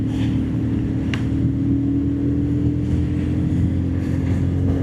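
Bajaj Pulsar 220F motorcycle running steadily under load as it accelerates through the gears, a continuous loud low engine drone with a steady tonal hum, one brief sharper tick near the start, no talking.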